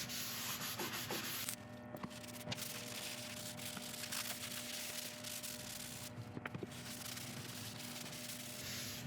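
Wax finish is rubbed into a turned oak burl, giving a steady, hissing friction that runs continuously and is punctuated by a few faint knocks.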